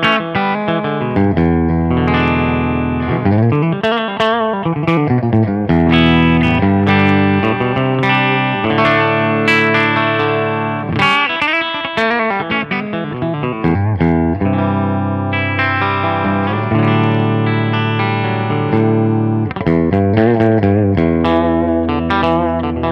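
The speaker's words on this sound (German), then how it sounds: "Und jetzt fehlt uns noch hier der Bridge-Tonabnehmer. Und der klingt so." Electric guitar on its bridge pickup with a slightly distorted, old-school rock tone, playing continuous chords and riffs loudly and up close for the whole stretch, with no talking.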